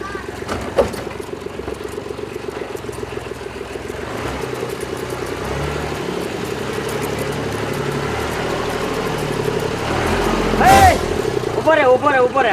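A tractor's engine idles in a steady, mid-pitched rumble on a rural farm, running continuously under people talking, and grows slightly louder near the end.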